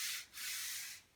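Sandpaper rubbed by hand over the wooden stock of a Sheridan Blue Streak air rifle with 100-grit paper, a close, steady scratchy hiss in two strokes, the first brief and the second long.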